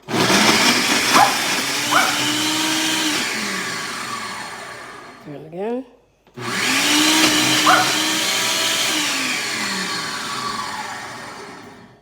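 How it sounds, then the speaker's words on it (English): A blender motor whirs loudly for several seconds crushing garlic for a Dungeness crab sauce, stops briefly, then starts up again and runs steadily, with a short spoken remark in the gap. "Okay, I'm about to put it on the blender"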